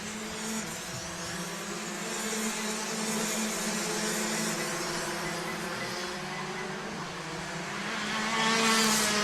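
DD2 and Masters racing karts run on a track at a South African kart championship at iDube, their engines whining steadily and close by, swelling louder toward the end as karts pass.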